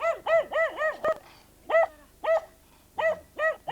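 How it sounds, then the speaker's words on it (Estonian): A dog barks in short repeated bursts, a quick run of four barks then spaced single barks, loud and close with no talk over them. "Sul on koer ikka tige."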